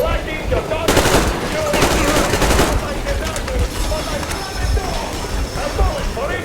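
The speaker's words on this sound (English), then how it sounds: "I'm shooting you personally through your forehead!" Rapid automatic gunfire from the video game Metro Exodus, dense bursts loud and close with heavy rattling, a shouting voice breaking in over the shooting.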